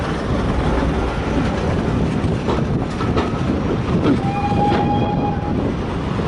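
A diesel multiple unit train on the Severn Valley Railway rumbles steadily and loudly close by, with a short horn-like tone sounding briefly near the end.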